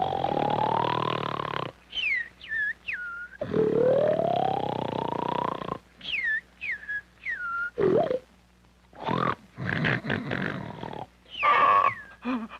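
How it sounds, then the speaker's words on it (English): Cartoonish snoring from an old 16mm film soundtrack: long rasping inhales followed by rising whistling tones, repeated several times in a steady rhythm, loud and up close with brief silences between breaths. "I can't stand that snoring any longer."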